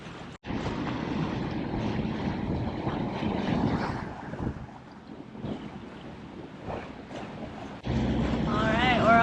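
A sailboat motoring under engine power near the Rosario Islands off Cartagena, a steady engine drone mixed with rushing wind and water noise, rising louder toward the end, with a voice talking over it.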